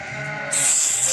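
A single close, loud bleat from a sheep of the Tatali breed, a harmonic nasal call that swells and brightens midway through.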